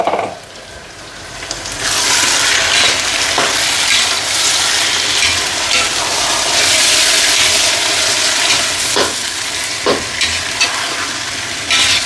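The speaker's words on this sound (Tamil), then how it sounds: "கிண்டு நல்லா கிண்டு விட்டுருவோம்." Onions for biryani frying in a large pot, a loud dense sizzle with the rough scrape of a ladle turning them, steady and close throughout.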